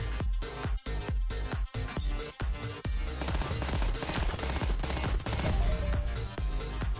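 Turrets firing in the video game Starward Rogue, rapid bursts of gunfire that start in separated volleys and then run together into a dense, continuous barrage over loud game music.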